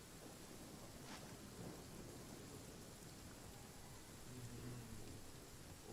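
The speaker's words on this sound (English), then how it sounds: "Hujan juga kenapa ya?" Rain falls and thunder rumbles in the video game Genshin Impact. A quiet, steady patter of rain runs throughout, with soft low rumbles of distant thunder underneath.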